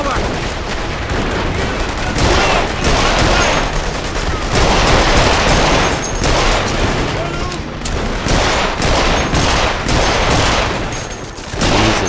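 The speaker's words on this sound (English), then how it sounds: "I'm gonna start with my pistol." Gunfire from The Saboteur rattles in rapid, dense bursts of loud shots that nearly fill the span, with a voice speaking faintly underneath.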